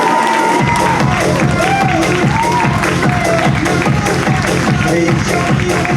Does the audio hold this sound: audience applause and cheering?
yes